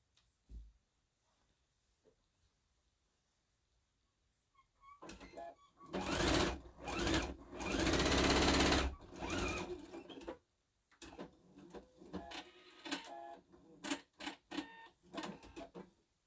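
A sewing machine fitted with a jeans needle stitches through vinyl for a drawstring bag, starting after a quiet pause with a sustained loud run of rapid stitching, then several shorter bursts.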